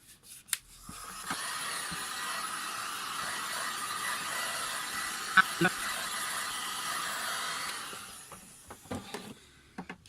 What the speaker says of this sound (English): so I'm gonna dry this with my heat gun